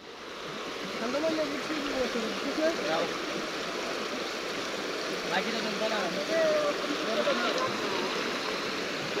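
A boat moving across floodwater makes a continuous wash of rushing, churning water, steady and fairly close, with faint voices under it.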